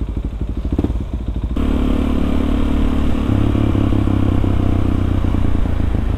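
A Suzuki DRZ 400 supermoto motorcycle ridden through the streets of Bandung, its single-cylinder engine thumping loudly and steadily close by, with no speech.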